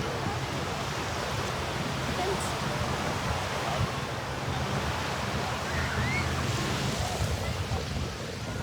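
Sea waves on the water at sunset, a steady broad wash of surf mixed with wind buffeting the microphone, continuous and fairly close, with a voice faintly present.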